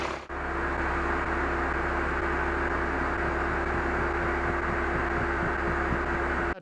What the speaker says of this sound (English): we've had about quarter an hour of deflating the tyres